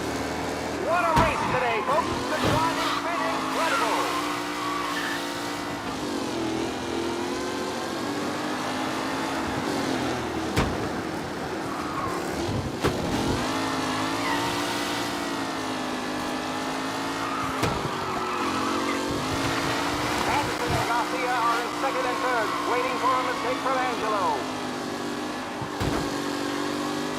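Race cars roar through a street race in Mafia: Definitive Edition, engines revving and shifting pitch with occasional tire squeal, loud and continuous alongside talk throughout.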